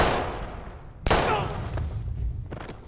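Gunshots ring out in the video game Life Is Strange: a sharp crack at about one second, then another later, over a dense, busy game background.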